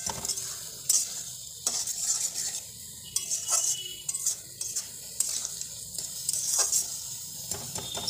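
A spoon scrapes and stirs coriander leaf chutney cooking in a pan, repeated clinks and scrapes over a low sizzle, close, with no talking.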